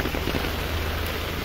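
Heavy rain pours down steadily during street flooding in Recife, Pernambuco, a dense, loud, unbroken hiss of drops striking surfaces close by with no voices.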